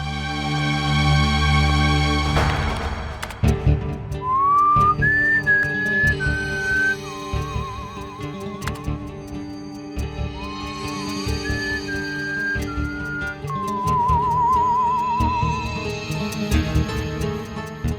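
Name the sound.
person whistling into a microphone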